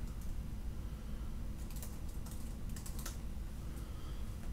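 Steady typing on a computer keyboard, a quiet run of soft, irregular key clicks heard alone at low level.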